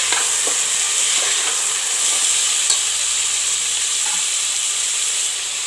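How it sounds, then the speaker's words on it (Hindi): Chopped potatoes and carrots roast in a pan for masala khichdi, giving a steady, even sizzle with a few faint clinks of stirring throughout, no talking. "इन सबको हम अच्छी तरह से रोस्ट कर लेंगे।"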